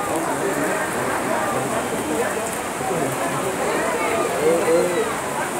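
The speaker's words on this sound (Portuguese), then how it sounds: "A chuva aumenta consideravelmente aqui em Teresina." Heavy rain falls steadily at an outdoor youth under-11 football match in Teresina, a constant dense hiss of drops on the ground and surfaces throughout, loud and unbroken.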